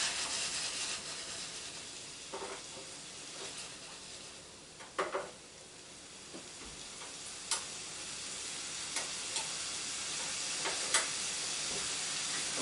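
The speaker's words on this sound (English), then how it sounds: "Oh, I hope the microphones can pick up the sizzling because that sounds delicious." Sauce and spices sizzle in a hot pan, a steady soft frying hiss that runs throughout, broken by occasional faint clicks and taps of utensils, with no talking.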